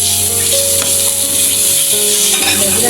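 Food being stirred and mixed in a pan while cooking, with a faint sizzle and soft scraping under a steady background hum, no talking.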